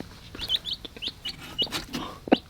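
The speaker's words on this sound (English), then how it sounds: "I hear chirping." Newly hatched chicks beside a hen give a run of thin, high chirps in quick succession, close by, with some soft rustling and a brief low cluck near the end.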